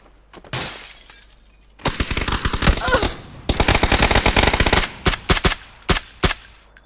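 Machine gun fire in the video game PUBG, rapid close bursts of shots with sharp clattering impacts, starting with a few single cracks and building into sustained volleys before tapering into spaced shots.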